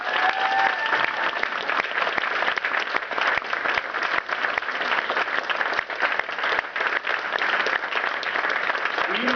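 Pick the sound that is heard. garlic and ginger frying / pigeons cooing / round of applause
round of applause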